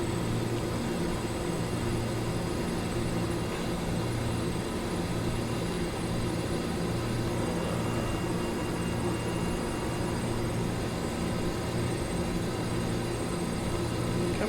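A steady, loud engine and airflow drone, heard from inside the cockpit of a small cargo aircraft climbing toward cruising altitude between Las Vegas and Elko, continuous and unchanging with no talk.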